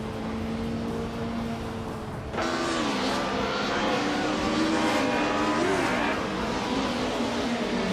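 Racing car engines roar in a video game race, a loud continuous drone that jumps abruptly in intensity partway through, then holds as a dense, whining engine wash with shifting pitch.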